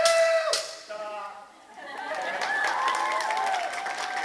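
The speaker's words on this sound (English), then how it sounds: "You're going to applaud for that?" An anime convention masquerade audience breaks into applause and cheering after a loud musical cue fades, with clapping building into a sustained, moderately loud wash under chatter from the crowd.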